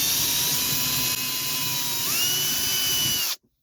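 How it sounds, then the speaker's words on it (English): Power drill whines steadily at close range while boring into a 1950s Swiss Monti Super spinning reel, its pitch rising midway before it cuts off abruptly. "We're gonna get our drill and hopefully not mess this up"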